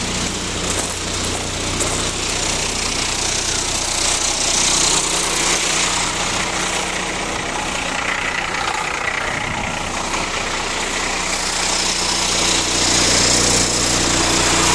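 The DT466 diesel in a 1995 International 4700 chipper dump truck runs steadily with a continuous rumbling drone and a noisy broadband clatter, close by for the whole stretch, with no talk over it.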